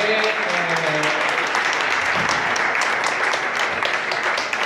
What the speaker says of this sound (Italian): un applauso a Sergio.